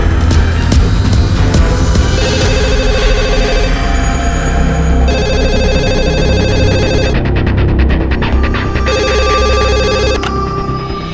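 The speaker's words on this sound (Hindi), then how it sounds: "अंकल डैम इट, फोन उठाओ।" A telephone rings loudly in repeated electronic bursts over busy, dense background music and ambience, with no talk during the rings.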